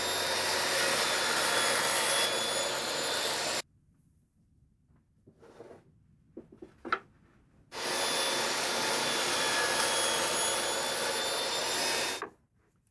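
A saw cuts spalted maple for a picture frame, with a loud, steady close-up whine in two long passes. A quieter stretch in between holds light handling knocks.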